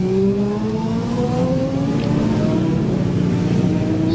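A green Kawasaki racing motorcycle in a Manx Grand Prix senior race roars past, its engine note climbing steadily and holding loud and close throughout with no talk over it.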